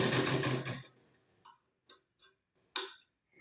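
A home sewing machine runs a short burst stitching a tuck on a katori blouse, then stops, followed by a few sparse, sharp mechanical clicks spaced apart in near silence.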